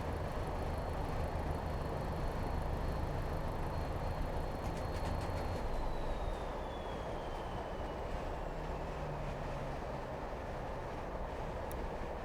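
A train engine running in the Train Sim Classic game on a route from Arrochar & Tarbet to Glasgow and on to Edinburgh, with a steady rumbling drone and a faint high whine that slowly falls in pitch, alone and continuous.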